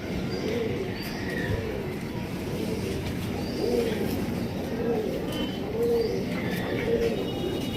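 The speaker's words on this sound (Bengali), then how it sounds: "চারোটাই মাদি কবুতর" Four female pigeons cooing nearby, soft throaty coos repeating every second or so against a steady background hum and faint voices.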